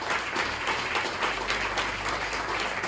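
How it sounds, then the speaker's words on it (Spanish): A church congregation applauds during a Spanish-language sermon, with dense, continuous clapping from many people filling the room at a steady, fairly loud level and a low hum beneath it. "Déselo fuerte ese aplauso a Jesús."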